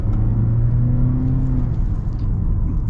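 A 2024 Nissan Altima AWD with an Xtronic CVT accelerates, its engine note rising in a steady, loud drone and rumble heard from inside the cabin with no talking.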